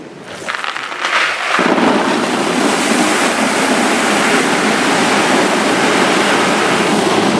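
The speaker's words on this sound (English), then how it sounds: "I'm just adding some water to do the final check on levels, to see if there's any leaks" Water pours steadily into a newly built custom bath of earthship-style construction over plastic, a broad continuous rushing that starts quieter and becomes loud and constant after a second or so, with no speech.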